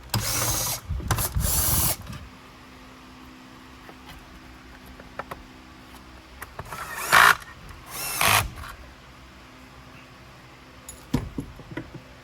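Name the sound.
removing screws from vacuum brush roll guard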